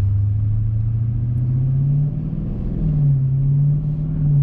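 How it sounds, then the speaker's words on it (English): Dodge Challenger Scat Pack with its active exhaust deleted, a steady deep rumbling idle with a couple of mild revs rising and settling, close and continuous with no talk. "you don't get to hear that cool exhaust noise"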